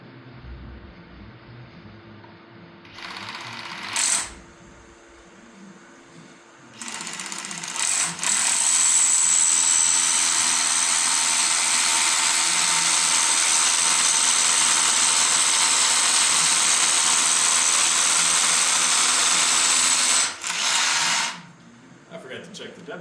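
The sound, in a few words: power drill drilling through a beam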